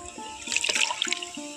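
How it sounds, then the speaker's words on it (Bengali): Raw potato paste poured into a kitchen strainer, a soft wet slosh and trickle that swells in the middle and tapers off, close and fairly quiet with no talking. "ছাঁকনির মধ্যে ঢেলে নেব"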